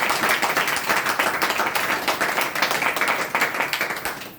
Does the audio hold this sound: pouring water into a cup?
no